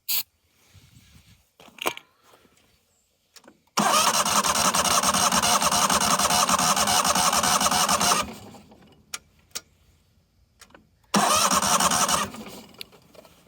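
A neglected 1998 Yazoo YTKC22 three-wheel mower engine cranks hard on starting fluid in two long loud bursts with a squealing edge, separated by quiet pauses and small clicks.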